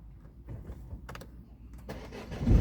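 A Peugeot Expert Partner 1.6 HDi turbodiesel engine cranks with low rumbling turns and then catches, its sound swelling louder near the end, heard close up with no speech.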